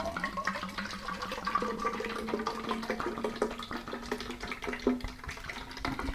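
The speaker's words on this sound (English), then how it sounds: "Yep, splashing over the top a little bit there." Wine poured from a bottle into a plastic carafe, a steady glugging liquid stream with rising pitch as the vessel fills and splashes over the top, close and continuous.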